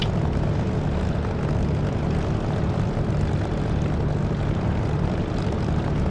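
A propeller aircraft engine in the DCS flight simulator game hums loud and steady while taxiing on the runway, a dense continuous drone with no voices over it.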